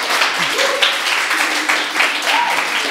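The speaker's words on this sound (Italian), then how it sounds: "Facciamo un applauso a Mattia Valotti" A studio audience applauds on an Italian TV show for a young footballer who scored two goals, clapping steadily under a host's voice that talks over it.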